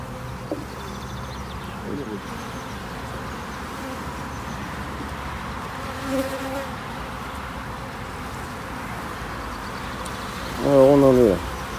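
Honey bees buzz around an opened, weak hive during a colony inspection, a steady close hum of many insects with individual bees droning past, while someone talks at intervals.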